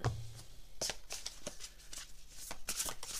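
Tarot cards are shuffled and drawn by hand in a quick, close burst of riffling and flicking strokes, fairly soft in a quiet room.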